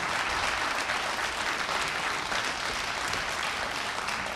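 A full audience claps continuously at the 2017 Lugoj awards gala, a thick, uniform wash of applause lasting a few seconds with no one speaking over it.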